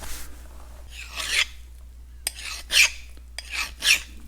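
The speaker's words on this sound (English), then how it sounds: "A little bit of careful filing around that key slot, and that comes right off." A hand file rasps around the Woodruff key slot on a Farmall H starter or generator part, removing a burr in several short scraping strokes that swell and fade, with quiet pauses between them.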